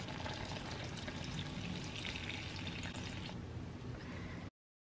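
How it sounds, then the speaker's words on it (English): Apple cider pours into a pan of soft, simmering apples with a steady liquid splash and sizzle, close and fairly quiet, running for about four and a half seconds before cutting to silence. "So right now I'm going to go in and I'm going to add my apple cider."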